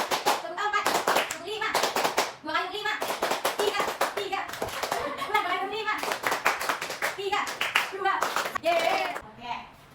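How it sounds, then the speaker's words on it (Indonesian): Children in a classroom clap together in counted, rhythmic bursts during a lesson, with a teacher and kids speaking between and over the claps, loud and close throughout. "Sebelum itu, kita tepuk dulu yuk."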